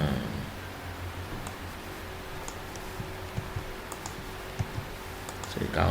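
Computer keyboard typing while a payment authorization is entered, faint scattered key clicks over a steady background hum, with speech nearby.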